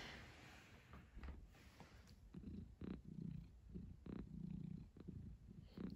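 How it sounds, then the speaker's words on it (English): A cat purrs softly and close in a low, rumbling rhythm of steady breaths over a faint background hiss, with no talking during it. "she is purring and now she's done"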